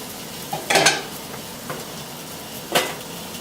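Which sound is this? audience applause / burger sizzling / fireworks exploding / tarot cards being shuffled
burger sizzling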